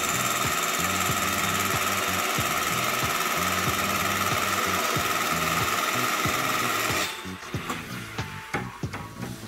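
A grooving machine cuts into a spring-loaded conveyor roller with a steady, loud, buzzing grind and a rapid rhythmic chatter for about seven seconds, then drops to quieter, uneven clunks as the cut winds down.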